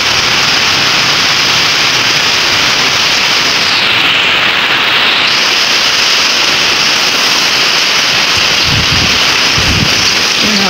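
Strong rain and gusting wind roar steadily during Typhoon Paulo in Isabela, a dense, continuous wash of downpour and wind buffeting close to the microphone, with a couple of brief low thumps near the end.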